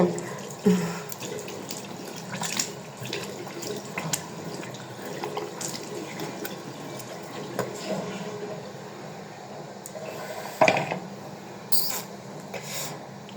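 Tap water runs steadily while someone washes their face, a continuous close hiss broken by a few louder splashes, with no talking.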